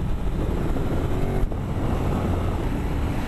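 A 2017 Ducati Monster 1200 S motorcycle engine pulls steadily while riding, a loud continuous rumble held below 6000 rpm during break-in, with wind rush over it and no talk.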